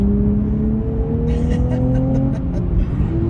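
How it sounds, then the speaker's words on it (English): A 2023 Nissan Z with a manual transmission blips its engine for an automatic rev match. The engine note holds steady and then rises, with a continuous drone under road and cabin noise. "this auto rev match is awesome"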